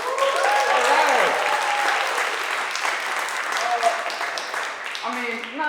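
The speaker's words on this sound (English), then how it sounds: "Everybody clap for him." An audience at a university entrepreneurship pitch competition applauds a musician, producing dense, sustained clapping close to the microphone. Musical tones and a voice run faintly underneath for the whole stretch.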